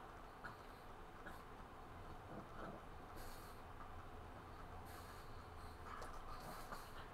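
Train ride in the Super Smash Bros. World of Light game mode, a steady rumbling rail clatter with rolling mechanical noise, moderately loud and continuous with no talking.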